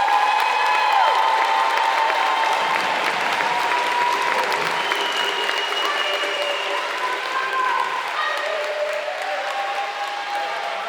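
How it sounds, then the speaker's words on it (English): Sustained audience applause at a 2026 high school graduation ceremony, a dense wash of clapping from a large crowd with a few cheers and whoops scattered through, steady and loud for the whole stretch with murmured voices underneath. "Let's give one more round of applause for the class of 2026."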